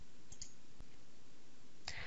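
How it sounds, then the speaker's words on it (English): Mouse clicks while working in STAAD.Pro structural design software: a few sharp, faint clicks spread across a quiet stretch, with a cluster near the end. "we'll click the Assign button"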